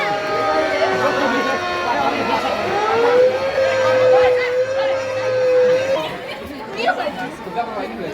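A wailing alarm siren sounds during a school evacuation drill, a steady rising tone heard under loud crowd chatter and voices.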